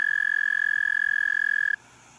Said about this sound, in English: they'll do this advertisement call like most frogs do and toads